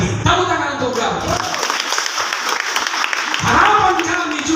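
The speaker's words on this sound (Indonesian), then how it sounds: "Tepuk tangan untuk Gandhi." An audience at an Easter youth church gathering claps, a dense burst of applause at the start and again near the end, with someone speaking over parts of it.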